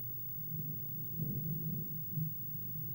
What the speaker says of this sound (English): let me know if you guys can hear that thunder